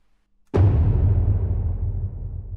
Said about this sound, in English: which I have these taikos playing for the percussive elements